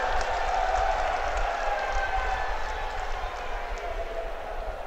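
A large crowd at an outdoor political rally applauding, a dense continuous wash of clapping and crowd noise heard at a distance, steady for five seconds.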